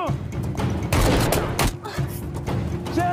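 Gunfire from a film shootout between a fugitive and police, with several loud, dense bursts of shots and booms, partly masked by music and shouting voices.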